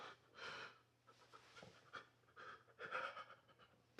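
A dog pants close by in an otherwise quiet indoor interview setting, giving several rapid breathy bursts with no talking over them.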